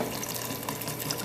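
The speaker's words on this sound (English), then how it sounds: "take your apple cider vinegar, your raw apple cider vinegar" Raw apple cider vinegar poured over herbs, a steady, continuous liquid splash and trickle at moderate level, heard alone with no talking.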